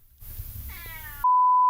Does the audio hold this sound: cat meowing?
yes